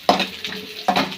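Pasta sizzling and frying in oil in a pan, with two distinct bursts of stirring and clattering over a steady low sizzle, up close and without talk.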